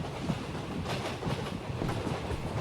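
Riding inside a moving train: a steady, loud rumble with rhythmic wheel clatter on the rails filling the carriage, no voices.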